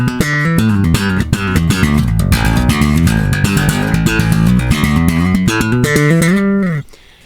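Slap bass playing a fluid, melodic phrase: a steady stream of punchy, percussive plucked notes with bright pops, loud and continuous for about seven seconds before stopping abruptly.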